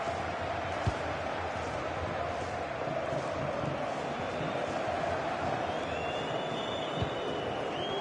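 Stadium crowd in an EA football video game cheering Real Madrid, a steady wash of roaring and chanting with occasional faint thumps, no talk over it.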